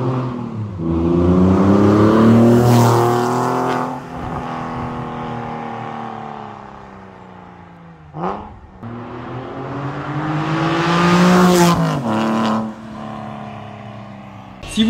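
Porsche 996 Turbo exhaust roaring through two strong revs, pitch rising and falling, with a sharp crackle between them, loud and close.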